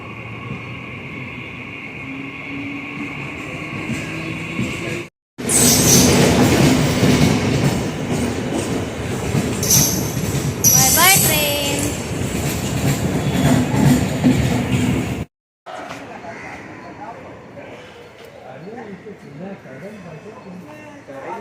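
A Mumbai local train roars and clatters loudly along the rails for about ten seconds, with a brief wheel squeal; voices talk before and after.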